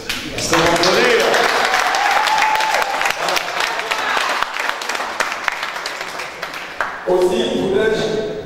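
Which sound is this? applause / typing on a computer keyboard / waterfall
applause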